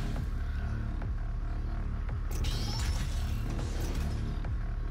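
A heavy metal door in Doom SnapMap grinds open with creaking, clanking mechanical sounds and a sliding whoosh, loud and close over a low industrial hum.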